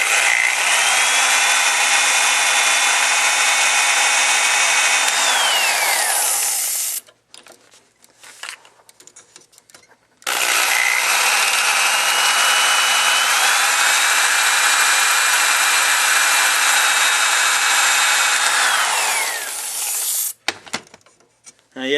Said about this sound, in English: I'm going to drill my hole through the aluminum so I can bolt this on